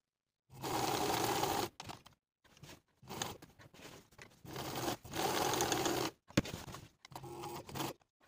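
Sewing machine stitching welt opening rectangles on a trouser pattern piece, running in bursts of rapid mechanical stitching separated by short pauses and pivots, close and clear with no talk.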